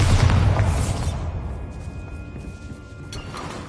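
A Bombarda blasting spell bursts in Hogwarts Legacy, a loud booming explosion at the start that rumbles and fades over a few seconds, followed by a faint sharp crack near the end.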